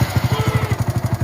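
A Hero Passion Pro motorcycle engine, just reassembled after a half-engine fitting, runs close up with a steady, fast, thumping idle, each beat evenly spaced and loud.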